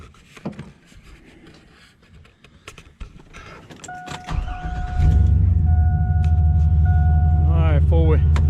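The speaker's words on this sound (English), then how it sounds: "crank this truck up." A GMC truck at a farm cranked and started after dark, with footsteps and a door first, then an engine catching near the five-second mark and settling into a loud, steady idle rumble with a high whine and some chirps.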